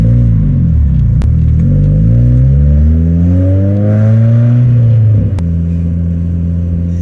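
A Miata on Flyin Miata VMaxx coilovers moves through Atlanta traffic, its engine droning loud and close as revs climb in a smooth rising sweep, ease off, then hold at a low steady hum.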